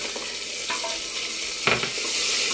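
Boiled chickpeas and chopped tomatoes fry with spices in a pan, giving a steady close sizzle and hiss with one sharp utensil knock partway through, no talk.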